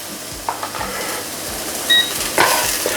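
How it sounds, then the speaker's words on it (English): Chopped onion dropped into a hot pan, sizzling steadily and close up, with a few stirring scrapes and small clatters over the fry. "we're gonna throw in half chopped onion"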